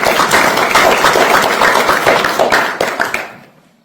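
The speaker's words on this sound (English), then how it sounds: "Go ahead and give them a round of applause." A round of applause from the audience at a Republican state representative candidate night, dense, close clapping from many hands that holds steady for about three seconds and then fades out.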